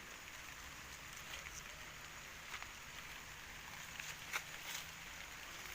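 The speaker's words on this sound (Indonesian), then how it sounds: "soalnya hujan" Rain patters faintly and steadily on a hut shelter, a soft continuous hiss with a few scattered sharper drips and light rustles.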